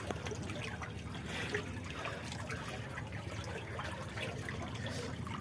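Floodwater standing around a house, deep enough to reach the neck: a steady, continuous trickling and sloshing of water with no breaks, moderately close.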